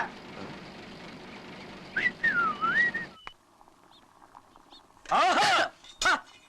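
A man in a Tamil film scene whistles a short wavering melodic phrase, then after a quiet pause gives a few sharper, louder whistle bursts, with faint background talk and bustle.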